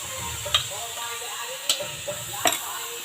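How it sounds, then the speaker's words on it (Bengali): Palm fruit pulp stirred into dough in a pan for steamed puli pitha, soft scraping and sizzling with three distinct spoon knocks against the pan, close and fairly quiet. "আরও ভালোভাবে নাড়িয়ে নেব"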